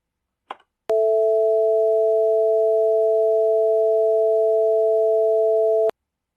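A steady electronic tone holding two pure pitches and overlaid with faint white-noise hiss sounds loud and even for about five seconds, preceded by a brief short blip.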